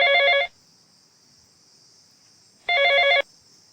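A telephone rings after a call is dialed, two loud electronic ringback bursts separated by a long gap, with a steady high tone on the line and no talking.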